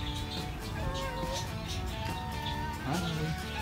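Close cat meows at a mini zoo come in short, wavering calls over a steady background hum, with a person's voice mixed in.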